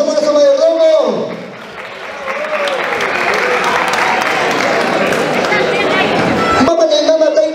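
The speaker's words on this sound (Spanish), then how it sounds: "Vengan los aplausos para nuestro mayordomo." A crowd applauds steadily at a patron saint festival for San Francisco de Asís in Quishuar, sustained clapping that fills several seconds between a man's amplified speech before and after.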